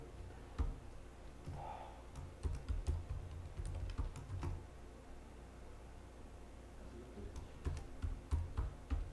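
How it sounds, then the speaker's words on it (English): Typing on a computer keyboard: irregular bursts of crisp key clicks, close and fairly quiet, with short pauses between flurries and a faint background hiss. "I'm typing in the wrong password."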